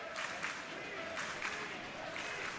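Basketball crowd at a North County boys' game against Potosi cheering and applauding in steady, dense bursts that swell and ebb, filling a gym late in a close fourth quarter.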